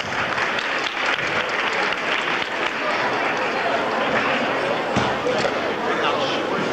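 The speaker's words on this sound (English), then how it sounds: "Let's give these boys a big round of applause." Applause for the boys after a 1993 gymnastics meet awards announcement in North Carolina, a dense, steady wash of clapping from a crowd filling the hall without a break, with scattered voices mixed in.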